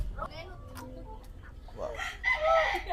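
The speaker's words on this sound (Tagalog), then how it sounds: "Ito itong manok." A chicken clucking and then crowing on a farm, short clucks early followed by a loud rising crow near the end, close by, with background noise and voices.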